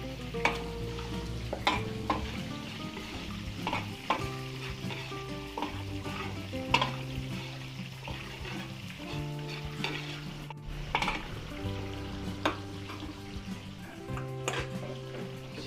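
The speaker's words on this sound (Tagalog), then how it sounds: "Gisa na tayo ng bawang." Garlic sautéing in a pan for a home-cooked Filipino dish, a steady close sizzle with frequent scraping and tapping of a spatula as it is stirred throughout.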